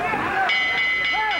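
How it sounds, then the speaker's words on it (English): A bell rings at the end of a round during the Daniel Zaragoza vs Joon Huh professional boxing bout, a few bright clanging strikes sounding under commentary and crowd noise. "there's the bell to end another round"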